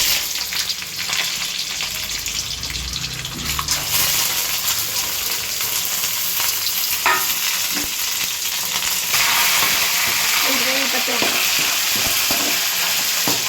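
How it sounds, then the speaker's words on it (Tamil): Mustard seeds, dried chilies, chana dal and peanuts frying in hot oil for a tempering, a continuous close sizzle with occasional stirring scrapes, growing brighter toward the end, with no talk. "இது நல்லா வதக்கிட்டு நல்லா வதக்கணும்"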